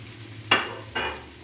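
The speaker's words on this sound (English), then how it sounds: "And I'm going to stir fry." Two short bursts of loud sizzling as lemon slices and precooked lobster tail are stir-fried with butter in a hot pot, each flaring up and then easing off.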